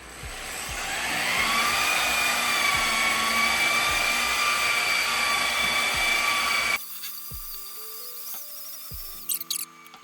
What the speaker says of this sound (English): set the rotary to like 1500 RPM